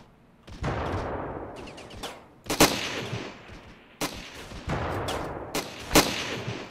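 Sniper rifle shots ring out in the snowy mountain battlefield of the video game Ravenfield, three sharp loud cracks spaced about 1.5 seconds apart over a steady rumble of distant gunfire and battle noise.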